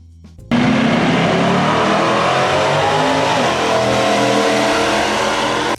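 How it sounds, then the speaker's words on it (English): A 1969 Plymouth Road Runner with a 426 Hemi V8 bursts into a loud, close revving roar that climbs and holds for several seconds before cutting off abruptly. "The 1969 Plymouth Roadrunner Hemi."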